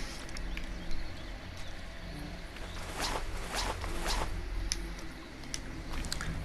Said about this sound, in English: Let's get our scuba gear on.